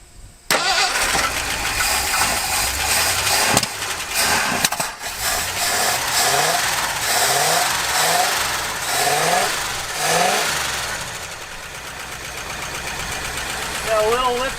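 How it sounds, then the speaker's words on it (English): An abandoned Ford Bronco, off the road for 18 years, cranks and fires, then runs steadily with rising and falling revs and a ticking lifter noise, the engine loud and close throughout. "Got a little lifter noise on this side, but she's a runner."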